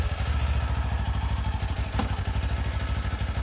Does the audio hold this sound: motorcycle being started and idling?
yes